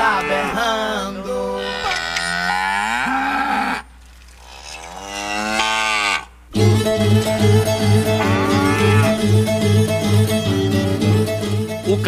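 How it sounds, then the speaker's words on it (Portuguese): Calves bawl loudly in repeated long, drawn-out cries, several overlapping, with a brief quieter pause midway before a dense chorus of bawling resumes. "a bezerrada tá berrando"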